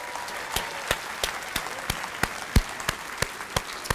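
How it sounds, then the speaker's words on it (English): Applause from an audience at an alumni awards night, a steady wash of clapping with sharper individual claps standing out, fairly loud and close, with no talk over it. "Let's give everybody a round of applause."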